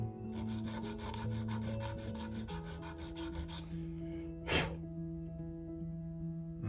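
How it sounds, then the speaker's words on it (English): Quiet rhythmic scraping as a small N scale Micro-Trains concrete tie loader rail car part is rubbed back and forth across a sanding block, about a dozen quick strokes, then a single louder scuff after a pause. "I just take it over my sanding block,"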